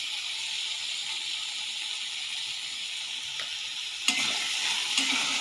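Food in a pan sizzles steadily while turmeric and salt are stirred in, with a scrape of the utensil near the end over the constant frying hiss.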